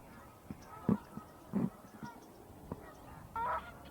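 A pair of gadwall ducks call at a park, giving short nasal honking quacks spaced irregularly over quiet outdoor background, fairly faint and distant.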